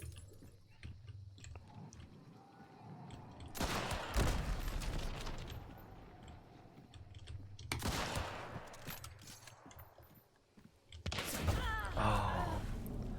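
Hunt: Showdown gunfire, several sharp shots and bursts at intervals, moderately loud and broadband, between quieter stretches of game ambience.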